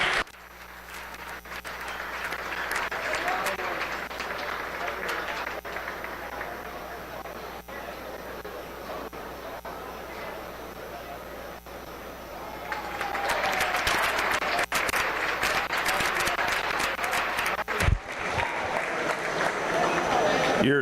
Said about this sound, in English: give all 4 of these exhibitors a big round of applause